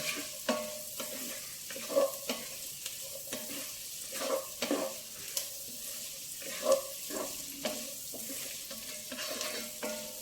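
Carrots frying for a mushroom curry, a soft sizzle in the pan broken by repeated close scrapes and clinks of a spatula stirring at an uneven pace, with no one talking.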